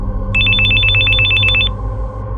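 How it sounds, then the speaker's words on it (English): A telephone rings with a rapid electronic trill, one burst of bright repeated pulses lasting just over a second, loud and close above a low steady hum, with no voices. "my phone rang"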